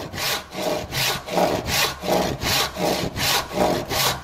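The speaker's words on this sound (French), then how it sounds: "Mon bois est fendu." Medlar wood being sawn in two for a knife handle, with about nine steady back-and-forth strokes in an even rhythm, close and clear with no voices.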